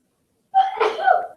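A single sharp sneeze bursts out after a moment of silence, close and fairly loud.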